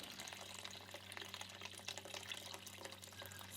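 Water poured steadily into a cooking pot of chicken pieces and pounded turmeric for a Karbi-style Northeast Indian chicken dish, a soft continuous splashing fill heard close and alone, with a low background hum.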